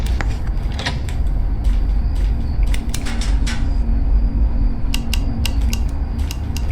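Elevator moving in the video game The Escape: Together, a steady mechanical hum with repeated creaks and clanks scattered through it, fairly loud and close.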